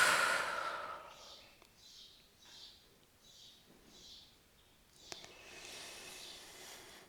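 Slow, soft breaths during a floor yoga session, a calm series of about six gentle airy exhales spaced evenly, close and quiet, with a longer breathy sigh at the start and a light tap near the end.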